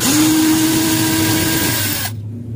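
A power tool or electric screwdriver whirs steadily to undo the center bolt of an LG top-loading washing machine pulsator, a loud continuous hum that holds for about two seconds and then stops abruptly.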